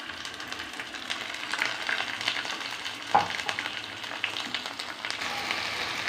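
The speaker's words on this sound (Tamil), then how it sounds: "தக்காளி இஞ்சி பூண்டு மூணையும் சேர்த்து அரைச்சி வச்சுருக்கேன் அந்த பேஸ்ட் போட்டு நல்லா வணக்கலாம்" A ground paste of tomato, ginger and garlic fries with onions in a pan for prawn gravy, giving a soft, steady sizzle with occasional stirring scrapes and one sharp utensil tap.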